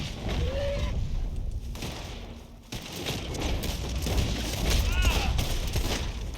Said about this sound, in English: My gun's shooting like it's dirty, even though I just checked it before.